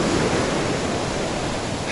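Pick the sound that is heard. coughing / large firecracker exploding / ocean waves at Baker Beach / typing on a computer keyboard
ocean waves at Baker Beach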